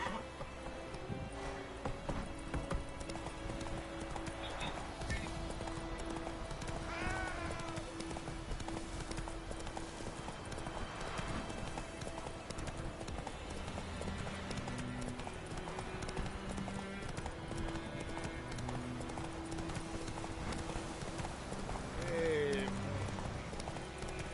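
The video game horse Roach gallops in a steady, rhythmic hoof clatter, close and continuous, with occasional game sounds layered over the hoofbeats.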